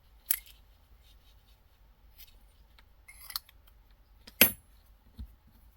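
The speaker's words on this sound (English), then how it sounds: "I'm just gonna cut it off." Scissors snipping knitting yarn after a knot is tied, a few sharp, isolated clicks and snips spread apart in an otherwise quiet room.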